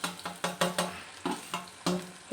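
Dry roasting of coconut, garlic, ginger, bay leaf, cumin and sesame in a pan for egg curry, heard as a series of scraping stirs with soft crackles, steady and close.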